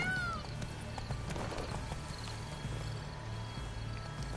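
Horse hooves trot in a quick, even clip-clop in The Witcher 3, fairly close and continuous, with a brief whinny-like tone near the start and a low ambient hum below.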